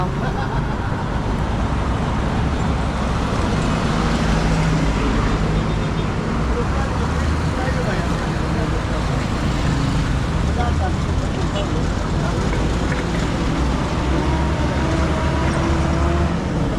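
Steady roadside traffic at a bus stop in Davao, a dense, continuous rumble of passing cars and buses that holds at a fairly loud level throughout without pause.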